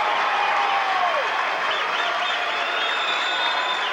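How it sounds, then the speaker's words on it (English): A gym crowd at a 1986 Waynesburg versus Westminster District 18 championship basketball game cheers and applauds in a steady, dense roar after a big basket, with whistles and shouts riding on top throughout. "Listen to the crowd."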